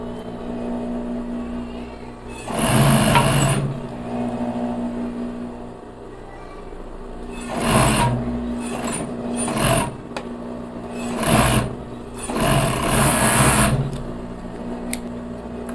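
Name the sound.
sewing machine stitching side seams of ribbed knit crop top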